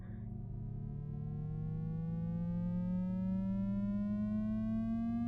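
A pure sine test tone sweeps slowly upward in pitch, steady and continuous, with a faint brief rustle at the start and no talking.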